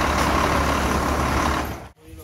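A red state transport bus bound for Poladpur idles with a steady, broad engine rumble, loud and close, cutting off abruptly near the end before faint background sounds return.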